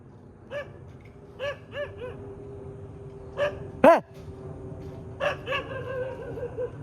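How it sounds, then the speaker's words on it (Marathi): A dog barks in short separate yelps spread across several seconds, fairly quiet with a faint hum underneath, one sharper louder bark near the middle. "कुत्रा लागलाय भुकाला"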